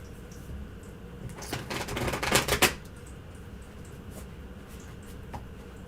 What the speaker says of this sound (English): Are you shuffling next